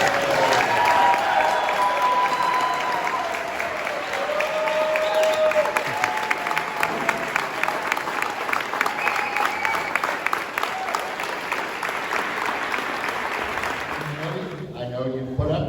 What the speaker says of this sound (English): We need a round of applause for a wife like this.